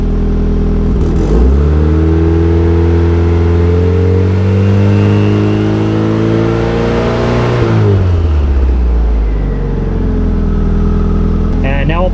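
A Mazda Miata engine, with the car up on jack stands, idles, then revs up smoothly to a sustained high drone and falls back down, loud and close, with a voice briefly underneath.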